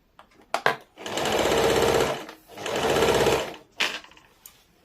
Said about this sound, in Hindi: इसी प्रकार से पूरे में सिलाई चला लेंगे।